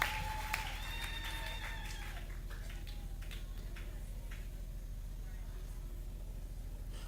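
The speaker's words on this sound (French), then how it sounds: "Applaudissez très fort pour le Seigneur" Clapping from a church congregation during worship, a steady rhythmic patter under a low rumble, with a few brief tonal sounds at the start.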